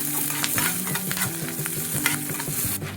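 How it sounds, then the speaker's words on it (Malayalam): Green chillies fry in hot coconut oil in a pan, giving a steady, close sizzle with light stirring scrapes over low background music and no talk. "എണ്ണ ചൂടാക്കി കഴിയുമ്പോൾ കുറച്ച് പച്ചമുളക് കയറി ഇട്ട് കൊടുക്കാം. നന്നായിട്ട് ഫ്രൈ ആയിട്ട്"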